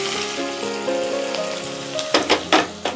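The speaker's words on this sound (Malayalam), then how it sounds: "നേരത്തെ അരിഞ്ഞു വെച്ച ഉള്ളിയും പച്ചമുളകും എല്ലാം പാടെ നമുക്ക് ആ എണ്ണയിലേക്ക് ഇട്ട് കൊടുക്കാം" Chopped onion and green chilies tipped into hot oil for papaya pickle bring up a moderate sizzle over faint background music, ending in a few sharp clattering knocks from the pan.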